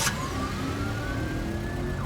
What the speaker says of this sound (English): Deputy Franklin wastes no time in turning on the siren, blasting down the road toward whatever emergency is underway